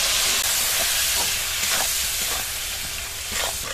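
Lemon juice poured into a potato curry frying with curry leaves and spices, a loud hissing sizzle with bursts of spitting and stirring, no talking.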